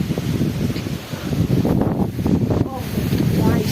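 Strong stormy wind gusting outdoors during a sudden rain and windstorm, a continuous loud roaring buffet across the mic with swelling gusts, and a voice speaking over it.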